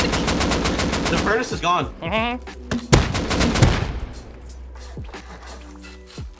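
Rapid bursts of gunfire and explosive blasts in the survival game Rust during a raid defence, loud and close, with players talking over the shooting.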